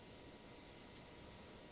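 A REACTOR Graviton 2 watch timer gives a single short, thin, high-pitched electronic chime lasting under a second, faint and close against a quiet background.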